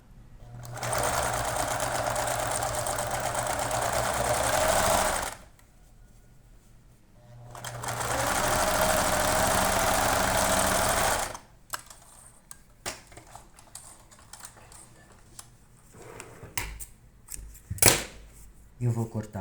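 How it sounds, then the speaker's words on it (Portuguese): A sewing machine stitches across the straps of small rabbit doll clothes in two loud, steady runs of fast mechanical whirring, each a few seconds long, followed by handling clicks and a voice speaking. "somente aqui eu vou passar uma costurinha aqui em cima."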